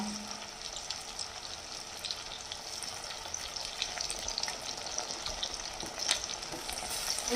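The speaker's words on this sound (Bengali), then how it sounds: "আদা রসুনটাকে কাঁচা গন্ধ চলে যাওয়া পর্যন্ত কষাবো" Garlic and ginger, about ten cloves and an inch of root, sauté in hot oil for a fish curry, sending up a dense, even sizzle that runs without a break and with no voices.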